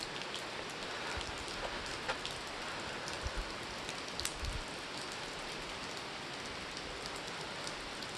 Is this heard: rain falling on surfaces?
yes